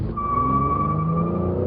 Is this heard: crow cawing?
no